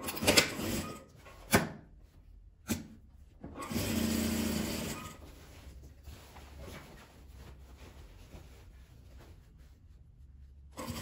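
A sewing machine topstitches a seam on a patchwork table runner, running in short, fairly quiet bursts with a longer steady run in the middle and pauses between.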